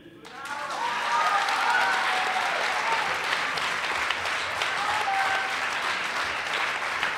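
A large audience applauds at the 2016 Sosnovskaya competition gala concert of laureates. The clapping is dense, loud and close, and stays sustained and even from start to finish.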